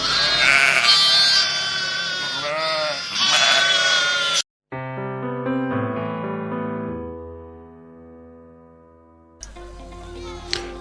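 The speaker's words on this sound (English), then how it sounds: "We will follow these lambs as they grow over the summer." Lambs bleat several times up close in a short burst of wavering cries, followed by sustained musical tones after a brief silence.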